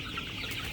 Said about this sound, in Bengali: এটা সোনালী মুরগি, কালার বাটনা।